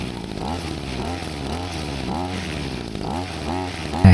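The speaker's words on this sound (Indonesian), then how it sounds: "mesin bisa hidup kembali dan ia bisa berjalan" The engine of a garden spraying machine runs again with a steady, rhythmic, chainsaw-like chug, loud and close, with a sudden louder burst at the very end.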